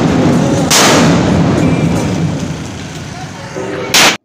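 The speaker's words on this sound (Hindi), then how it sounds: "इस मौका पर उन्होंने शोहदा को फायर सलामी भी पेश की।" A loud gunfire salute booms out at a Pakistan Defense Day ceremony honouring fallen soldiers at the 19 Lancers graves, first one heavy blast, then a long roaring rumble with a second sharp report near the end.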